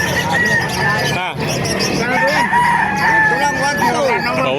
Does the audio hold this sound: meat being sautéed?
no